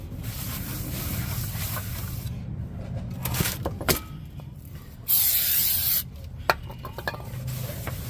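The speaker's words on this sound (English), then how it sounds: "So put on this oil." Oil sprayed from an aerosol can onto the front brake parts of a 1997 Lincoln Town Car, a steady hissing burst lasting about a second over low workshop rumble, with faint clicks and handling noises around it.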